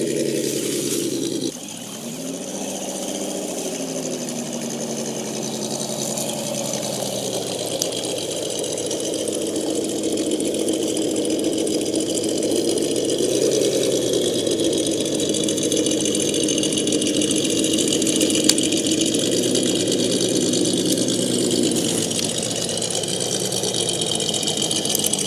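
The engine of an RC truck, a 1979 Ford XLT TRX-4 build, whines at a steady idle. It dips briefly near the start, then drones on with a faint trickling overtone and no talk.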